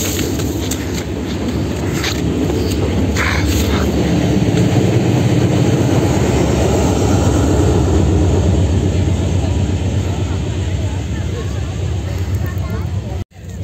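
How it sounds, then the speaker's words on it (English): A steam train rumbles steadily across the Nine Arches Bridge in Ella, Sri Lanka, with heavy low engine noise and rhythmic clatter, loud and sustained before cutting off abruptly. "The train is on the bridge."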